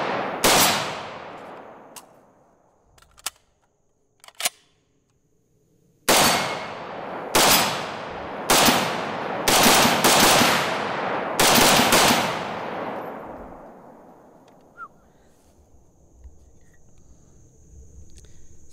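An FN SCAR 17S .308 carbine fires a slow string of loud, sharp, close shots with ringing decay, a few spaced single shots first, then a heavier series, with echoing outdoor tails.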